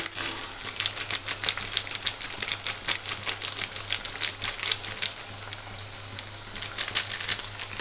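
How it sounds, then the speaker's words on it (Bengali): Potatoes frying in a pan in a home kitchen, a dense crackling sizzle with rapid spattering pops throughout, steady and close, with no talking. "দেখো বন্ধুরা, আলুটা ভাজা হচ্ছে।"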